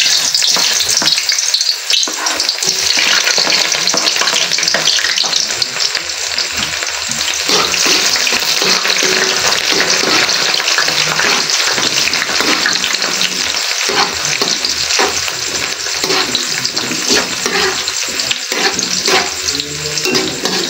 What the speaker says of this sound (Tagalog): Painit lang natin mantika tapos magigisa na tayo ng bawang sibuyas.